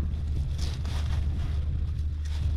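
Strong wind buffets the microphone in a continuous low rumble, with gusty rushing noise and no speech.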